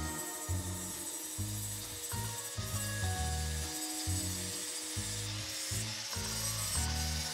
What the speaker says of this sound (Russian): С помощью лепесткового диска очищаю от ржавчины и убираю все заусенцы.